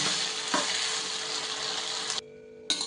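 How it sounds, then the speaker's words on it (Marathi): Cluster bean pods sizzle in hot oil with a bright, steady frying hiss, a stir clunk early on, then the sound cuts out briefly before returning. "तेल घातलेलं आहे आपण या शेंगा परतून घेऊ"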